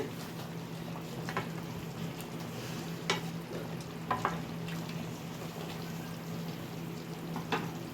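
Chicken makhani is stirred in a pan with faint, sparse scrapes and taps over a soft, steady frying hiss, quiet and without talking.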